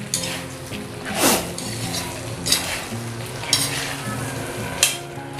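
Aloo gobi, potato and cauliflower, stirred through a masala in hot oil, sizzling and frying steadily with four distinct scraping stir strokes of a spoon against the pan, close and fairly loud.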